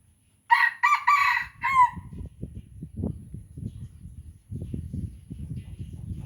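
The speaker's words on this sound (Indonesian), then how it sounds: "Itu kandang ayam hutan. Itu ayam hutan." A caged junglefowl rooster crows once, loud and close, with a harsh multi-part call lasting more than a second. Low rustling and shuffling follow it.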